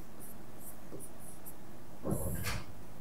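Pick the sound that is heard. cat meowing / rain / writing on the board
writing on the board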